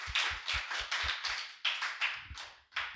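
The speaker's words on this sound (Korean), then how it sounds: "박수를 크게 한번 쳐줘야 될 것 같은데요." Claps at a church worship service, about a dozen separate sharp claps in an uneven rhythm, fairly close and moderately loud, with brief gaps between them and no talking.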